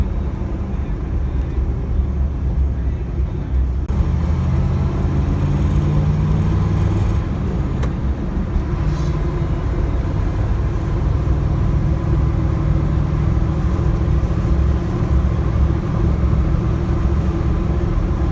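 A 1976 Ford Bronco engine runs steadily on the road, a continuous low drone with road rumble throughout, close and fairly loud.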